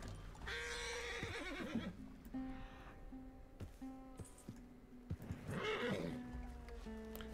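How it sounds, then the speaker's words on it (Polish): Horse in the Red Dead Redemption 2 video game giving two loud, shrill whinnies with snorts between them, near and clear over a quiet background. "Mogę tylko uspokoić tego konia i co?"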